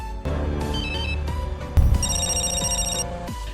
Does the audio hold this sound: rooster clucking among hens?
no